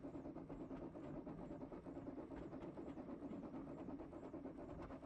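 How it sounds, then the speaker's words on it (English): Narrow-gauge train running straight through Cumfall Holt without stopping, a steady rumble with faint clickety-clack from the wagons, continuous and fairly quiet throughout. "so the train will go straight past."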